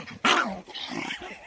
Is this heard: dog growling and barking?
yes